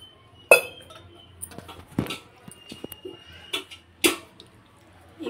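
A kitchen vessel being washed clinks and clatters against other dishes, with a few sharp metallic knocks standing out among quieter scraping and rattling close by.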